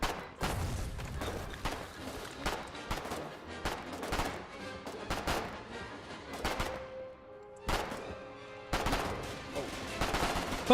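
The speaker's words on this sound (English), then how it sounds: "the turret shot at me. Friendly? Yes. That's my auto turret." Automatic turret fire in the war game Foxhole: Inferno, sharp repeated gunshot bursts at uneven intervals, loud and close, with occasional quieter gaps between volleys.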